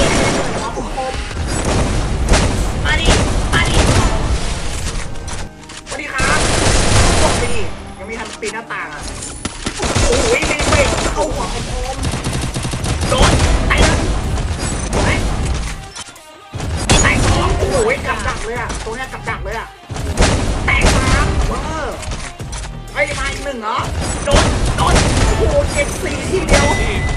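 Gunfire and bursts from the Free Fire battle-royale game, loud and nearly continuous with dense volleys, booms and brief pauses, mixed under excited talk.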